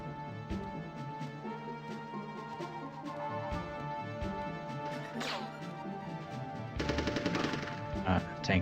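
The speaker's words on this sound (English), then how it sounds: "A little machine gun there." Machine gun fire and impacts in the video game Army Men: Sarge's Heroes, rapid repeated shots over a busy game soundscape with crashes and a heavier burst near the end, loud and close.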